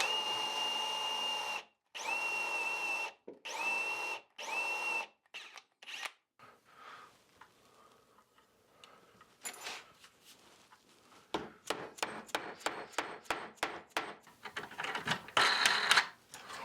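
A power drill boring into the leg of an antique table, starting with several loud whirring bursts separated by pauses, then quieter stretches and a run of short, rapid trigger pulses near the end, close by.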